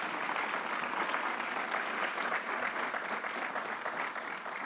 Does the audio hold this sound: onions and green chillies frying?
no